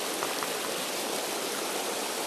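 River water rushing through a wooded gorge below an old mill dam, a steady broadband wash of flowing water with no pauses, close and fairly loud, no voices.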